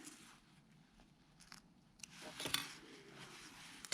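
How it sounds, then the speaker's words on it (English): Scissors trimming thread ends on a jacket lining, a few close, quiet snips and crisp cuts, with faint rustling of fabric. "we need to trim our thread ends as usual"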